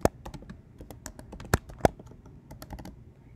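Fingers type a folder name on a computer keyboard, a quick run of crisp key clicks with a few louder, sharper strikes, close and clear with no talking.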